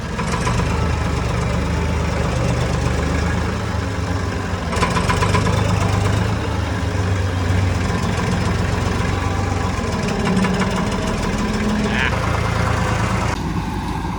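A tractor engine idles steadily and loudly throughout, a low rumbling drone with faint knocking, close by and continuous.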